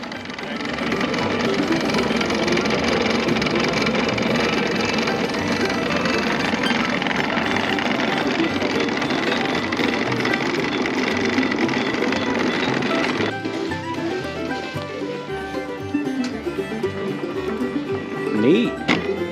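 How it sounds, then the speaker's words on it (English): A steam traction engine at a farm steam-up drives a corn shucker through its boiler, a steady mechanical chugging and rattling drone that continues loud throughout, with a voice talking over it. "The second engine on the cart's boiler is hooked up to a corn shucker, which shucks corn"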